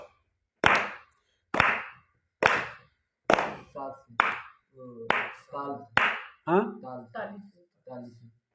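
Steady, close handclaps keep time about once per second in a Hindi singing lesson, then a voice starts singing while the sharp claps continue on the beat.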